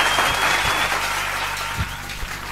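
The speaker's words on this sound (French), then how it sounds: "Applaudissez pour Jésus." A church congregation at a Congolese revival service claps and applauds together, a dense steady wash of hands that carries on evenly throughout, with a few low thumps and a faint sustained tone beneath.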